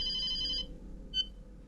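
An old-style telephone bell rings in a bright trilling burst, then a brief shorter ring after a pause, heard fairly quietly over a low background hum.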